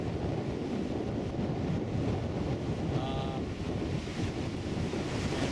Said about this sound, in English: it makes these amazing rapids.